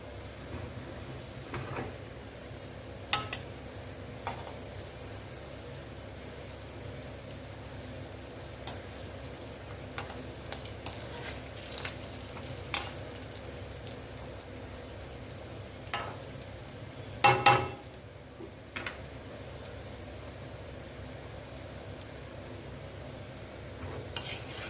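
Snacks deep-frying in oil over a low flame give a soft, steady bubbling hiss throughout, with occasional light clinks of utensils against the pan, close and quiet with no talking.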